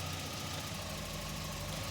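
A car engine idles steadily during a transmission fluid flush, giving a constant low, even hum with faint mechanical vibration and no change in pace.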